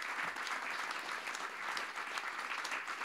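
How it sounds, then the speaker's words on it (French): Sustained audience applause fills the room at the inauguration of a student house, a dense steady wash of many hands clapping at moderate distance with no voices over it. "je vous demande quand même de l'applaudir"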